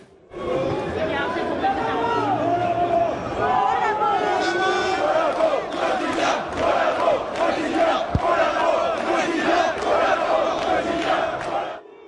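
A crowd of militants chants loudly and rhythmically at journalists, many voices together rising and falling in repeated shouted phrases, with general crowd noise and jostling filling the background throughout.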